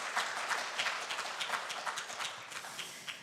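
Applause from an audience at an opening ceremony, a dense, rapid patter of many hands clapping steadily at moderate distance for the whole stretch.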